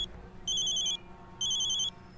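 Electronic telephone ring in two bursts of repeated high-pitched trills, each about half a second long, separated by a short pause, heard alone over quiet room tone.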